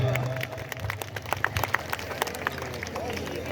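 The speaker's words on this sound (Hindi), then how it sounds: "तालियां आपकी कमजोर है" An audience at a Holi gathering with poetry recitals claps in scattered, thin applause with individual hand claps audible, murmuring voices underneath, fading slightly toward the end.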